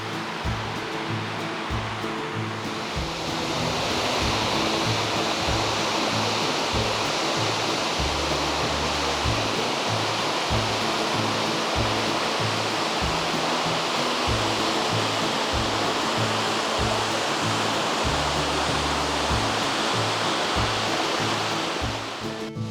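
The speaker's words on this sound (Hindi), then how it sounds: "कितना खूबसूरत लग रहा है ये वाटरफॉल का पानी जो नीचे गिरते हुए यहाँ से दिखाई दे रहा है।" Water plunging down Satnari waterfall in the Balaghat hills, a steady, loud, broad roar that continues unbroken throughout with no voices over it.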